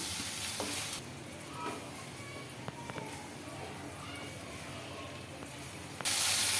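Tomato paste cooking in oil for a chicken kofta gravy, a soft continuous sizzle and hiss with a few faint stirring taps, fairly even throughout before a louder burst at the very end.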